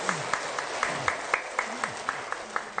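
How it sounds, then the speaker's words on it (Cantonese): An audience at a Buddhist retreat talk in Cantonese claps in a steady, evenly spaced rhythm of distinct claps, moderately loud, with faint voices underneath. "好俾啲掌聲俾你自己"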